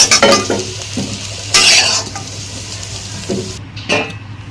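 Potatoes fry in a pan, sizzling steadily while a utensil scrapes and stirs in several close, irregular bursts.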